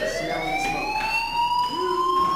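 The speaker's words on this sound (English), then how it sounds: "do you hear that fire alarm?" Fire alarm ringing in the video game Life Is Strange, a steady electronic tone with rising pitch sweeps that sounds continuously at moderate loudness, with no talk over it.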